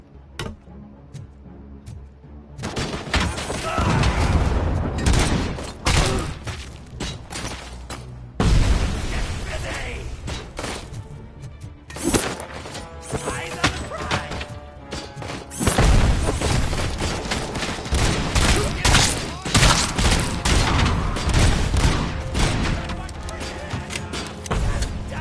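Gunfire and booming impacts in the video game RoboCop: Rogue City, repeated loud bursts and heavy shots in clusters with brief pauses, layered over game music and effects.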